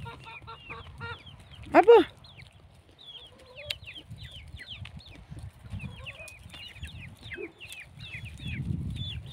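Chickens clucking in a backyard vegetable garden where squash is being picked, with near, busy clucks and chirps scattered throughout and a brief louder squawk early on, while a woman calls to them.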